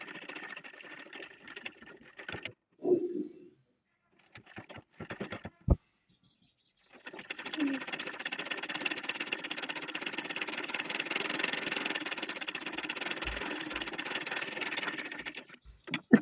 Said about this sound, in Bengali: গলা ভাঁজ দিয়ে তারপর সেলাই করে নিচ্ছি